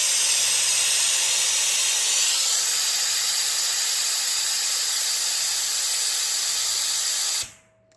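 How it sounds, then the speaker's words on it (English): An air compressor on a truck blows off pressure in a loud, continuous hissing rush of escaping air that holds steady for several seconds before abruptly dying away, with no talking over it. "That's the compressor blowing off."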